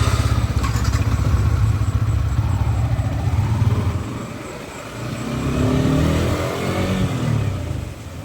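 Yamaha R15 motorcycle engine on a dark, empty road at night, a loud steady drone that eases off midway and then swells again with wind rush.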